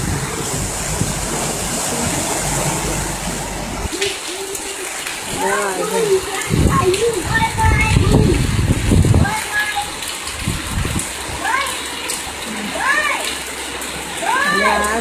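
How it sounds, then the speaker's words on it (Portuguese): Storm floodwater pouring into houses in São Gonçalo, Rio de Janeiro, a loud steady rush and splashing that runs the whole time, with people's voices and excited exclamations heard over it. "Olha a água entrando na casa dos outros, ó."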